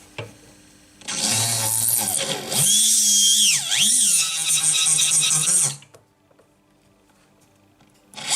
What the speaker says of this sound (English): So it's a very good shaping burr.